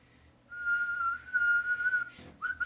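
A person whistles one sustained, slightly wavering note for about two seconds, up close and clear, then breaks off and starts a short rising note at the end.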